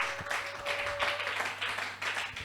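A church congregation claps in praise, a dense moderate wash of applause from many hands that continues steadily through the short moment.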